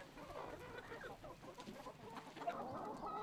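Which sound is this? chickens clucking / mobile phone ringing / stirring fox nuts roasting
chickens clucking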